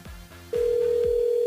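A telephone rings on a radio call-in show's switchboard, sounding as a steady electronic tone that starts partway through and holds, following a few soft thumps.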